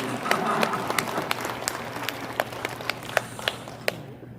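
Scattered, sparse clapping from a small lecture audience, fairly soft, with individual claps standing out over a low background hum and murmur.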